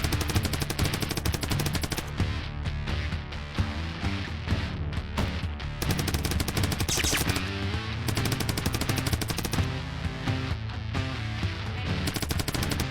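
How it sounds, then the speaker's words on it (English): Rapid, continuous SMG fire from the indie video game Dungen Shooters, a loud, dense rattle of shots running almost unbroken for the whole stretch, layered over steady tonal backing. "Next, I have the SMG, which shoots ridiculously fast, but it's inaccurate and it does barely any damage"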